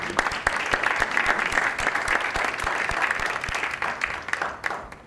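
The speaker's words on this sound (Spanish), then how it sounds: "le damos un aplauso" An audience at a lecture session claps steadily for about five seconds, the dense applause fading out near the end.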